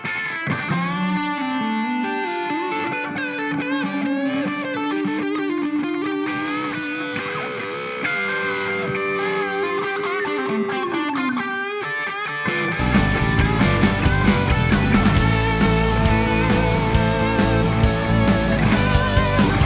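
Music processed through the Seventh Heaven Professional reverb plugin on an echo plate setting with about 60 ms pre-delay and added echoes, sustained tones trailing into a wash, then fuller, louder instrumentation.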